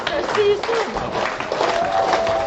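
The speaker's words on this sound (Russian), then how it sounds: "Аплодисменты!" An audience in a full hall breaks into applause, a dense wash of clapping mixed with cheering voices, loud and close throughout the short burst.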